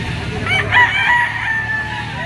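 A rooster crows at a pet market, a three-year-old sinibalang game fowl of white kelso bloodline, its drawn-out call rising clearly above a busy background murmur.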